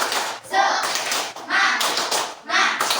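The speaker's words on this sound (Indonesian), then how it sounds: "Lebih baik kita tepuk semangat dulu ya. Oke, tepuk semangat." A class of Indonesian fifth-grade primary school children performs the 'tepuk semangat' spirit-clapping chant, with three loud bursts of rhythmic hand claps mixed with children's voices, separated by brief pauses.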